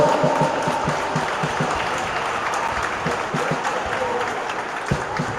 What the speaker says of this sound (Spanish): Un forte aplauso para eles, por favor.